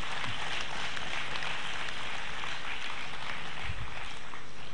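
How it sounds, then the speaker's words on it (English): Graduation ceremony crowd at a homoeopathic medical college applauding, a fairly quiet, distant-sounding blur of clapping spread across a large hall, steady for several seconds with occasional low thumps. "A round of applause to your own institution,"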